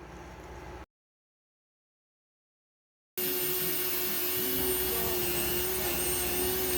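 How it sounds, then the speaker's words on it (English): A steel wire brush cup spins against the metal motor frame of a 1957 Lionel Postwar Alco 200 A locomotive. A short burst of noise cuts out into silence, then a loud, steady whirring scrub runs on without a break. "I'm using a steel wire brush cup to get to the dimple of the motor frame for the front truck"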